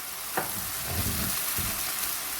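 Ginger paste goes into a hot pan of pulao base, crackling in a dense, steady sizzle with a few soft stirring scrapes underneath, close and alone.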